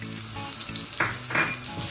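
Red onion sizzling steadily in hot vegetable oil, a close, continuous bright crackle with a couple of louder hissing bursts as the pieces are stirred.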